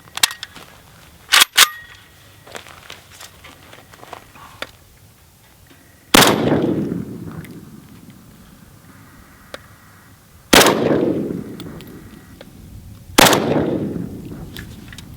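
Three loud, sharp gunshots from a Tula AKS-74U rifle ring out several seconds apart, each with a long decaying echo. Lighter clicks and clatter come before them, and the shots are heard alone with no talk.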